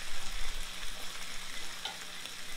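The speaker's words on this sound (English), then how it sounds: "Sizzle. Sizzle, sizzle, sizzle." Steady crackling sizzle of pork chops frying in a pan, close and constant, with no voices.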